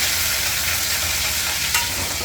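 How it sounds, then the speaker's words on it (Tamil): Mustard seeds and spices frying in hot sesame oil while tempering for a traditional garlic thokku, giving a loud, steady, close sizzle with fine crackling throughout and no talk. "நம்ம இப்போ தாளிக்கிற மாதிரி பண்ணிவிடுங்க."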